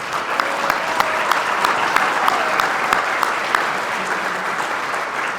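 Steady, dense applause from an awards ceremony audience honoring police officers at the Greater Hampton Roads Crime Lines Top Cop Awards, with sharp individual claps standing out through the sustained clapping for the full stretch.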